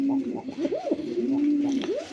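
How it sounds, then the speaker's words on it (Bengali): A pair of Lahori pigeons coo close by, with a steady run of throaty, rolling coos and wavering calls repeating through the clip, while faint voices murmur in the background. "দেখেন বন্ধুরা এখানে এক জোড়া লাহোরি কবুতর আছে"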